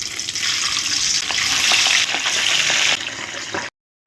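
Nigella seeds tempering in hot oil for a mustard pabda fish curry, a loud close steady sizzle with crackling pops that swells midway and then cuts off abruptly near the end, no voices.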